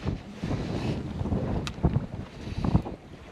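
Wind gusting across a sailboat at sea in roughly 12 knots, rushing and buffeting the microphone in uneven surges, with water sloshing against the hull close by and no voices.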